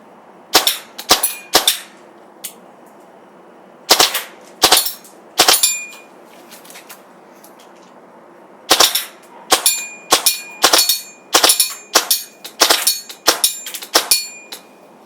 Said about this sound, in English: It's having a hard time shooting full auto as the mag is running out, but it still has BBs, so sometimes it'll stop cycling.